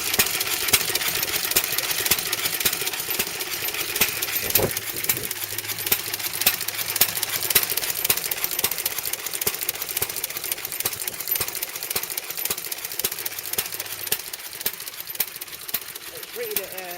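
An old Amanco stationary engine, rated around 2.5 horsepower, runs with a continuous rapid, ticking chug close by, steady throughout with occasional metallic taps.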